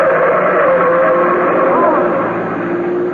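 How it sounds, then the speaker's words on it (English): A car speeds through a red light at an intersection, a loud, steady engine roar sustained close by throughout, with voices shouting over it. "There's a car coming right through that red light."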